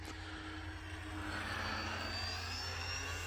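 An E-flite Ultra Stick 1.1m radio-controlled propeller plane flying overhead, its electric motor whining steadily and rising slightly in pitch, heard at a moderate distance without talk.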